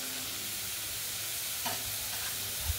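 A spiced yogurt curry mixture sautés in a pan, giving a steady close sizzle with faint stirring scrapes running through it.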